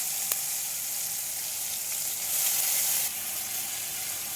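Onion paste made from four small onions sizzles steadily in hot oil during a fish curry, a loud close hiss that swells briefly midway, with one faint tap near the start.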